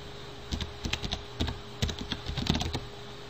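Someone types a name into a field on a computer keyboard, with quick, irregular bursts of crisp key clicks separated by short pauses, close and clear without any talking.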